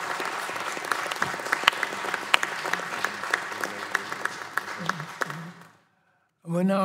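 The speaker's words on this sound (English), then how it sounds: "Would you please join me in giving John Marshall a big round of applause." An audience at a congressional subcommittee hearing applauds for John Marshall, brisk dense clapping with sharp individual claps that fades out near the end, then a voice begins speaking.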